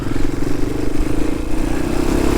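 A 1988 Honda XL200R motorcycle riding under acceleration, a loud, close, steady engine drone with a buzzing tone throughout.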